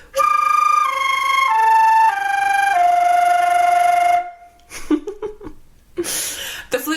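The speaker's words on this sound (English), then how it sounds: "If we roll our R's and blow at the same time into the flute, we can make this noise." A flute sounds a descending series of sustained notes for about four seconds, the tone buzzing from rolled-R flutter tonguing while blowing, followed by a few short breathy, airy bursts.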